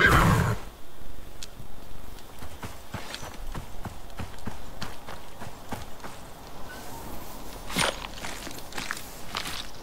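A Terra horse in the survival video game Icarus trots past with a steady clip-clop of hooves, bookended by a loud whinny at the start and another neigh near the end over quiet outdoor ambience.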